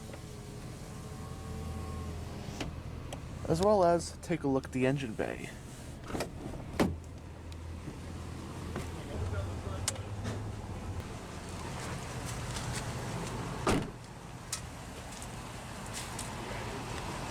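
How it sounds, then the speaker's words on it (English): A 2005 Dodge Ram 1500 SLT Daytona Edition's automatic driver's power window whirs down in a short motor run, followed by soft clicks and cabin handling noises, with someone narrating throughout. "let's go ahead and roll down the driver's window,"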